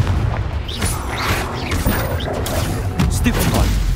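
The Confringo fire spell in Hogwarts Legacy goes off as a series of rough, booming blasts and crackling impacts amid combat noise, with a voice calling out over the effects.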